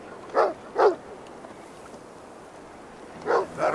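Dog barking in a Viking-era video game, four sharp barks in two pairs, the first pair early and the second near the end, with a quiet pause of low background ambience between them.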